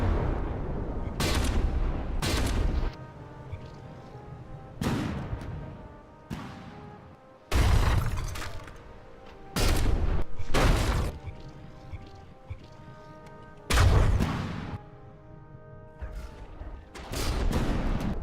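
Naval guns on warships in From The Depths fire in heavy booming blasts, repeated in pairs and single shots across the stretch, each loud crack followed by a long rumbling decay over a low mechanical hum.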